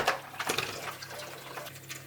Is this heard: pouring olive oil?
yes